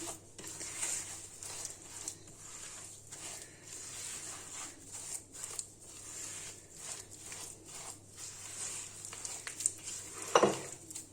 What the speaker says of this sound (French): je vais travailler le mélange vraiment en pommade, juste avec mes mains